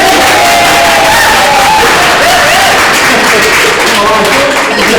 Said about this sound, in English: Cue rapturous applause